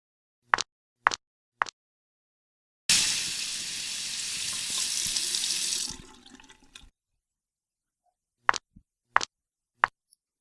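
A tap runs for about three seconds as hands are washed, a steady hiss of water framed by several sharp clicks or taps before and after.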